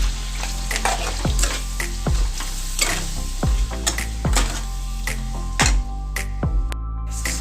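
Garlic powder being stirred in a hot frying pan, a continuous sizzle under a regular series of sharp spatula strikes and scrapes against the metal, close and fairly loud.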